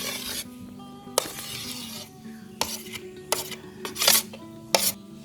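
A utensil scrapes and rasps against a bowl while a fried spice mix is stirred into egg ball batter, close by, in several separate strokes with short clinks between them.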